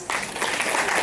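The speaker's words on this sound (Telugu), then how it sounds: "క్లాప్స్." A crowd of parents and guests claps at a dance school's annual day celebration, a brief, full burst of applause rising suddenly and holding steady.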